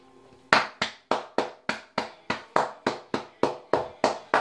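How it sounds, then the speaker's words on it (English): A single person claps hands alone, about fifteen sharp, evenly spaced claps beginning after half a second of quiet, close and crisp with brief decays. "Round of applause for them."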